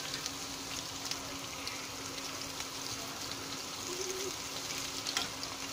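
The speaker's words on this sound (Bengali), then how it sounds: "অল্প কিছুক্ষণ ভাজবো, বেশি না," Hilsa fish fries in a pan with raw banana, making a soft, continuous sizzle and bubbling that holds at a low, even level throughout, with faint scraping of stirring.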